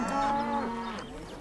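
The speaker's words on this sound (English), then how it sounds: "Declan, on one hand, just chooses to sit and wait for the cows to move naturally" Cattle standing on a road, one cow giving a single clear, fairly close moo that rises and then falls away.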